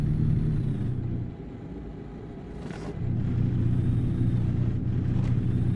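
A big rig truck driving in Truck Simulator, its engine giving a steady low drone with a brief dip in the middle, and a faint whoosh now and then.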